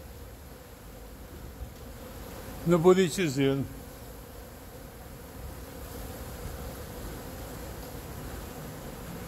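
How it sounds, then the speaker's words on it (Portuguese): Bees swarm around the flowering clusters of a buriti palm, giving a faint, steady buzzing hum against soft outdoor background noise, with someone briefly speaking partway through. "Vejam vocês o movimento de abelhas"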